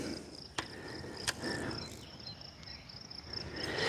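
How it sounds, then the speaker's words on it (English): Crickets chirp steadily in a field of goldenrod beside a mountain lake on a late morning, a faint high trill running throughout, with a couple of brief clicks near the start. "Hear the crickets."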